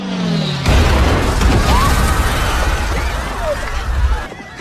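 A mortar bomb explodes in a Korean War film scene, a sudden loud blast cutting in after a moment and rolling into a sustained, heavy roar of debris and rumble that fades slightly at the end.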